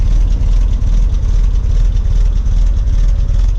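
A 1959 Triumph TR3 engine runs at a steady idle, its exhaust giving a loud, close, low rumble that stays even throughout with a slight rough pulse.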